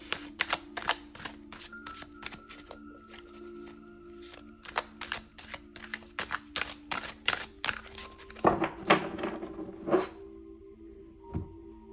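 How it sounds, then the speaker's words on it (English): A deck of tarot cards is shuffled by hand close to the microphone, giving bursts of crisp riffling snaps and soft flicks in an irregular rhythm, with a faint steady hum underneath. "let's shuffle the cards"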